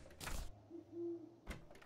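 Owls hoot in the video game Terraria: a soft, steady, drawn-out hoot sits between short bursts of other game sounds, with no talking.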